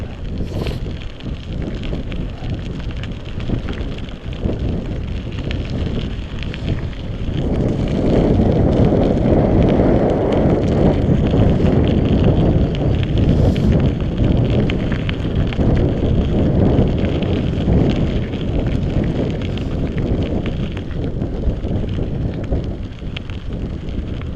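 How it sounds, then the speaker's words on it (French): Strong headwind buffeting a cyclist on a ride near Randan, a loud continuous roaring rush that swells even louder midway and then eases slightly, with no talk over it. "Et du coup, depuis près de 40 km, je me prends le vent en pleine façade."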